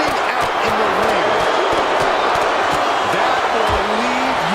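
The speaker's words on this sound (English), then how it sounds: "Listen to this crowd, driving these competitors to leave everything out in the ring" Crowd roaring and cheering steadily in a WWE 2K25 wrestling match, a dense constant wash of noise with sharp impacts from the ring cutting through and a commentator's voice running over it.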